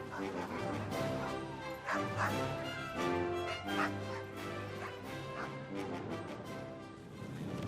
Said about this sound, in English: With them were nearly 70 Canadian sled dogs, uneasy at sea and in constant need of attention.